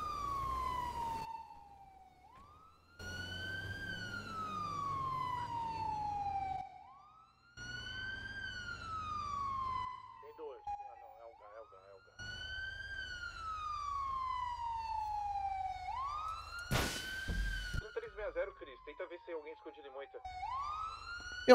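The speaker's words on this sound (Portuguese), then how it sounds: "não aguento mais esse barulho de sirene" A police siren in a video game set in a favela police roleplay, wailing in long rising and falling sweeps that repeat, broken by short gaps, loud and near while players chat over it.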